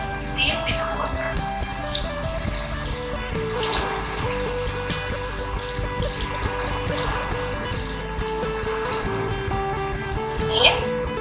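Running tap water splashes as hands are washed beneath the faucet, a steady trickling flow with small bursts of splashing, while a person talks over it.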